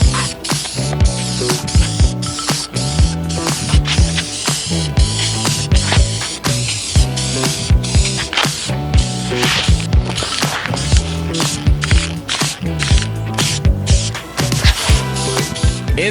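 Short bursts of a spray can hiss and rattle as a first coat of black paint goes onto a Cobra bumper, the can's agitator ball clacking between passes in an uneven, busy rhythm, close and loud.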